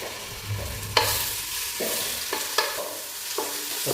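Garlic and ginger paste frying in a pan for a kabsa recipe, a low steady sizzle punctuated by a handful of spaced scraping stirs of a spoon against the metal, close and fairly quiet.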